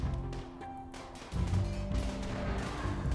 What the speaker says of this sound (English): You're going to shoot?